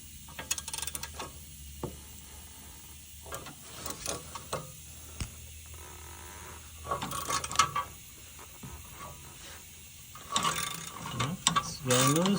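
Ratchet clicking in bursts while loosening bolts on the engine of a 2012 Volkswagen Passat during a 2.5 L engine swap, with close, repeated pawl ticks separated by pauses and some clanking of tools.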